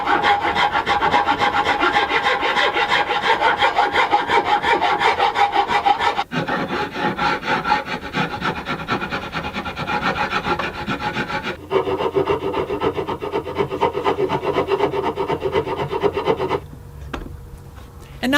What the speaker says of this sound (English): We now just need to spend a bunch of time with some files, smoothing out the corners